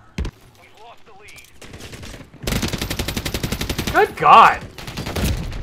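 Automatic gunfire in a Modern Warfare match, loud rapid bursts with rattling shots building to a peak midway, under a man's exclamations.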